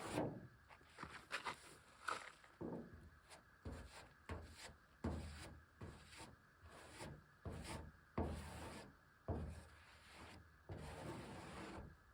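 A bondo knife spreads body filler over holes on a 2001 GMC Sierra 2500HD Duramax truck, giving repeated close scraping and rubbing strokes in an uneven rhythm with short pauses between passes.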